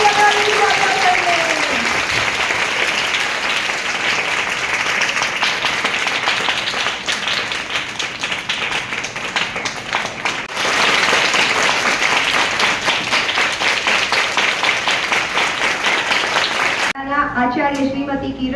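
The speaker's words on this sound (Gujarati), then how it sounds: "દરેક બાળકો તાળીઓથી વધાવી સ્વાગત કરીએ" Children applauding to welcome a guest at a school Mother Language Day celebration, a dense, sustained burst of clapping from a large group that carries on for several seconds before stopping abruptly.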